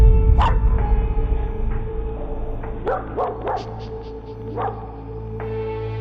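A dog barks in short, sharp bursts, a few spaced woofs then a quick volley and a final bark, captured by a home security camera over a steady low hum.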